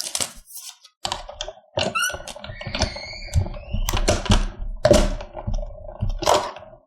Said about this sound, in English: die cutting machine